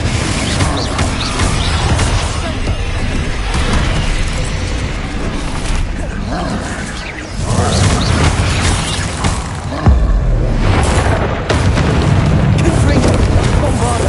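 Bombarda and Confringo spell explosions in Hogwarts Legacy, a dense, loud run of booms, crashes and bursts that continues throughout, swelling in several places with heavier impacts.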